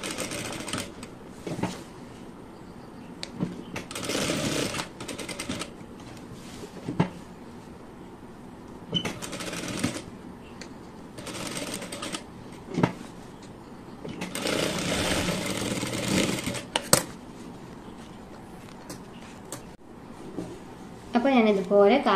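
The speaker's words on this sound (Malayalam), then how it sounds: "ഇപ്പൊ ഞാൻ ഇതുപോലെ ഒന്ന് കാലിഞ്ച് വിട്ടിട്ട് സ്റ്റിച്ചിട്ട് കൊടുക്കുവാണ്." A sewing machine stitches around a garment neckline a quarter inch from the edge, running in several short, loud bursts of rapid whirring with quieter gaps between them, where a voice can be heard talking.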